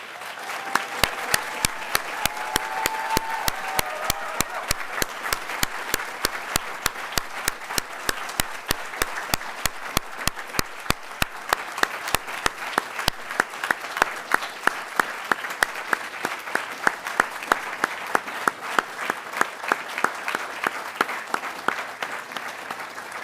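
Graduation commencement audience at a medical university's graduate studies ceremony giving a long, steady round of applause, dense crowd clapping with sharp individual claps standing out, sustained evenly throughout.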